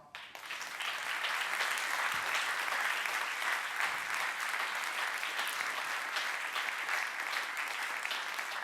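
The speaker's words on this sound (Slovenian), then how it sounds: "In hvaležni jim še enkrat zaploskajmo." Sustained audience applause at an award ceremony, a dense, steady clapping that fills the room from start to finish with no speech over it.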